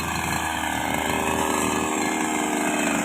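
A grass cutter runs steadily in a rural setting, its continuous high-pitched engine whine loud and close with no break.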